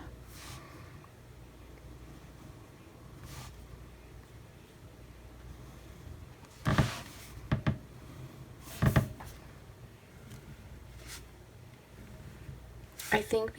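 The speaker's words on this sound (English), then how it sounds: "my desk is getting more and more creaky" An old desk creaks in a humid room, giving a few short, scattered groans and squeaks over a low, steady background hum, the loudest two coming several seconds apart.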